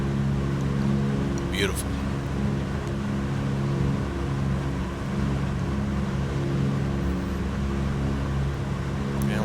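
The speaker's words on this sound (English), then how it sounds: "Love the sounds of these engines." Douglas DC-3 Gooney Bird piston engines drone in flight in the X-Plane simulator, a continuous, even low hum with steady tonal layers, joined by a brief spoken word early on.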